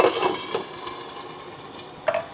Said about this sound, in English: I want to get a nice sear.